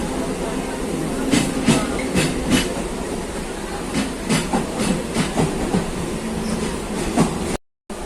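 A commuter train heading toward Sealdah from Dankuni rolls along the rails with a steady rumble and periodic clickety-clack beats, heard from inside the carriage, ending in a brief dropout.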